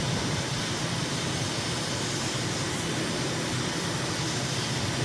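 Steady jet engine roar of a plane in Microsoft Flight Simulator, flying a recon leg near Damascus, Syria with the landing gear coming down, a constant broadband drone that fills the whole stretch without talk.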